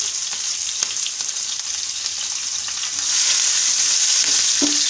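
Onion and green chilli frying in hilsa fish oil give a steady, loud sizzle that lasts throughout and grows a little stronger partway, with faint stirring taps underneath.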